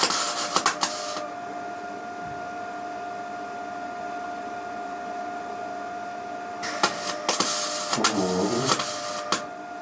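SIP 160A MIG welder brazing metal with the power turned down and wire feed raised, giving bursts of crackling, buzzing arc noise at the start and again near the end over a steady background hum.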